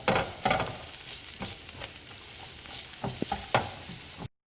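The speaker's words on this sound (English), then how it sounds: "we're gonna saute these up till they're translucent" Diced onions sautéing in a hot pan, a continuous close sizzle broken by repeated scraping and stirring strokes, ending in sudden silence.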